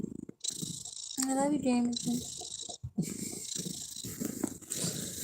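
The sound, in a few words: cat Jameson purring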